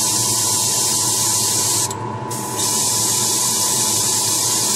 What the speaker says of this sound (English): I don't want to spray this on my parts without testing it.